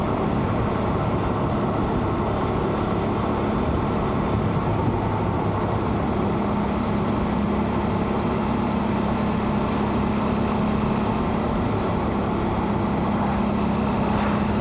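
A motorcycle descends Myrtle Mountain on a test ride, and its engine and wind noise make a loud, steady, unbroken roar throughout with no speech.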